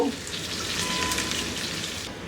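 Chopped onions sizzle in melted ghee as they fry to a reddish golden brown, a steady close crackle with no talking over it.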